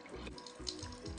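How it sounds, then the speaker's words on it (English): Water dumped out of an opened diffuser reservoir, heard as a soft, continuous trickling splash with low gurgles. The pour runs steadily and is fairly quiet, with no talking. "I'm just going to open this and dump the water out"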